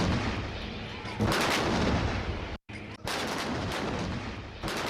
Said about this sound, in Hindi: 21 तोपों की सलामी दी गई।